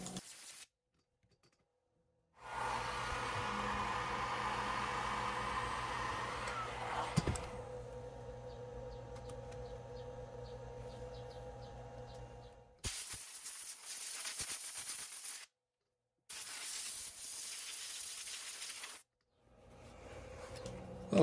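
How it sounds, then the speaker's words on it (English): Compressed air blowing over heated, softened plastic being shaped for a bicycle front-fork cargo cage: a steady close hiss that shifts in tone partway, then resumes in shorter bursts separated by silences. "Here I'm using compressed air to cool the plastic so the shape gets locked in."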